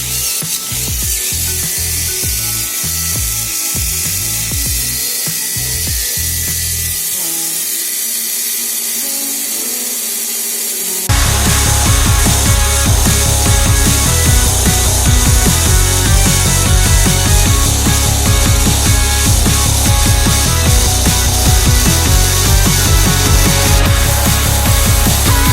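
A Tamiya Mini 4WD car fitted with an MK3 motor runs on its battery to warm up, giving a loud, steady mechanical whir that starts abruptly partway through after quieter rubbing and handling noises.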